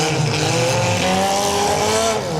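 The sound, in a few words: mini cars battling in demolition derby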